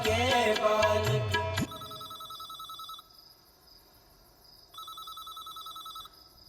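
A telephone rings in bursts of a repeated electronic bell tone, two rings separated by a short pause, clear and moderately loud after a brief snatch of music fades out.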